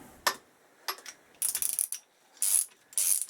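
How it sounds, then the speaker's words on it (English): A spanner ratchets on the top yoke of a Suzuki GSX1300R Hayabusa during a yoke conversion, giving several short bursts of sharp metallic clicking separated by pauses, close up and without talk. "But it would help if I actually use the right spanner"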